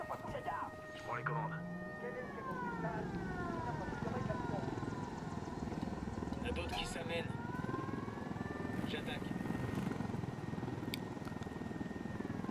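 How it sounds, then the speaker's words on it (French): A helicopter in the video game Ghost Recon Wildlands drones as a steady rotor hum under shifting game tones and effects, quiet and continuous for the whole stretch. "Moi, je prends le bel hélico qui est ici."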